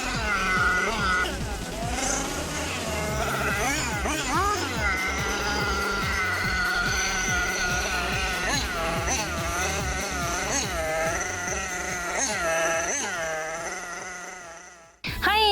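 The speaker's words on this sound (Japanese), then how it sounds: "今回はエンジンカー、こちらフォックスのブレークインをしてその後軽く走らせてみたんですけど" A high-pitched, buzzing Kyosho FO-XX nitro engine RC car, just broken in, revs up and down continuously, whining through rising and falling pitch sweeps for the whole stretch before cutting off abruptly.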